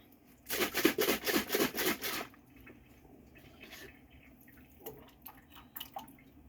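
Water splashing and swishing inside a sauce jar for a couple of seconds as it is rinsed, followed by a few faint clinks and drips.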